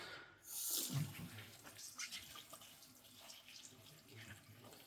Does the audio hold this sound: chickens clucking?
no